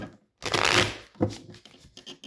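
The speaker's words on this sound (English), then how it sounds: "so I'm going to shuffle a couple more times" Playing cards are riffle-shuffled close up in two quick bursts of fluttering, followed by a few light taps and shuffles.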